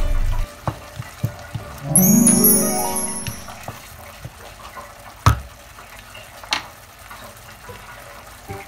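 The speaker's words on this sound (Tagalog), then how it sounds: "Maglalagay tayo ng konting tubig at pakuluan natin ito hanggang maluto yung ating mga ricado." Water poured into a cooking pot while making tomato fish paksiw, a rising pouring rush lasting a couple of seconds, followed by scattered clinks and taps.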